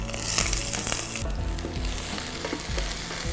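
Finely chopped shallots sizzle and crackle in hot oil with curry leaves, a dense continuous frying hiss with occasional stirring scrapes, no talking.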